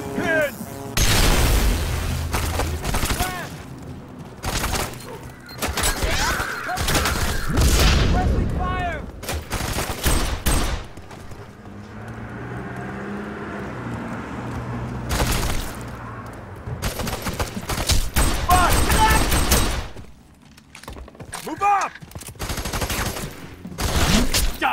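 Suppressing fire in the FEAR 3 video game during a slum run: loud, dense bursts of automatic gunfire and booming shots in repeated volleys, with short lulls and shouted voices between the bursts.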